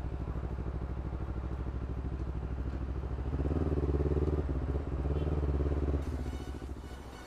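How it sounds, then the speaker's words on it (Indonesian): A grey metallic Honda CBR 250RR motorcycle idles nearby with a steady low rumbling putter, swelling briefly louder in the middle as the throttle is blipped, then settling back. "Honda CBR 250 RR warna grey metallic atau warna abu-abu."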